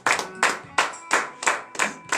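Congregation clapping in acclamation during a Beninese morning prayer service, about seven loud, sharp rhythmic claps in a steady beat, each ringing briefly before the next, with no voices over them.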